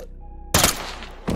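A gunshot to a suspect's head in the tactical shooter Ready or Not: after a quiet moment, one sharp loud blast with a short rumbling tail, followed by a second burst near the end.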